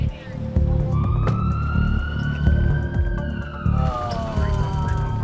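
A wailing emergency siren rises and falls over engine noise and traffic rumble, with occasional voices and clunks nearby.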